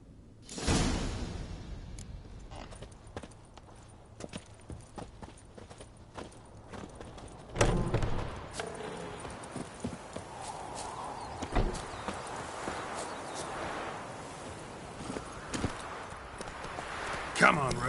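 Hooves of Roach, the horse in The Witcher 3, clop in an irregular series of sharp, fairly loud strikes with a few rushing swishes, while game dialogue runs intermittently underneath.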